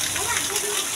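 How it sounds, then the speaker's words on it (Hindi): Steady rain pours down outdoors during a downpour, a dense continuous hiss of falling water heard close, with a voice speaking over it. "अरे मेरी श्यामा बारिश मैं तू भीग रही है"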